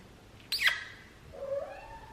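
A pet cat at home gives two soft meows about a second apart, the first a sharper, higher cry and the second a lower, drawn-out call, in a quiet room.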